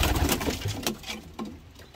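Pigeons in a friend's loft, soft repeated cooing and rustling close by, several low throaty calls overlapping with light wing and feather movement, no talking.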